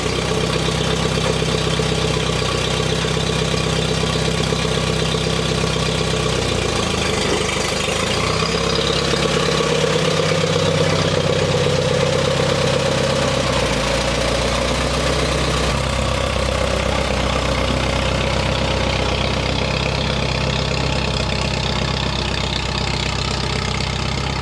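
Engine idling loud and close right after starting up in a garage, a steady continuous rumble with a slight change in tone partway through and no talking.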